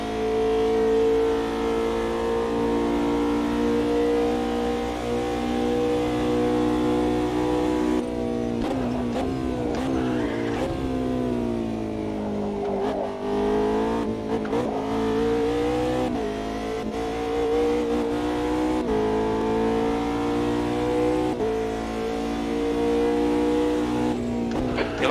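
A race car engine accelerates through Tamburello corner, a loud sustained engine note that dips and then climbs again in pitch as it revs, with no talking.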